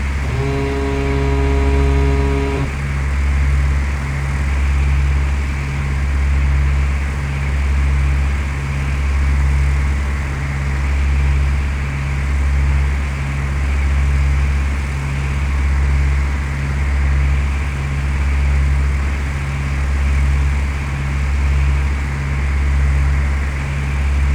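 A light airplane in a flight simulator game drones on steadily, a constant propeller-engine hum held at one even pitch for the whole stretch, with no talk.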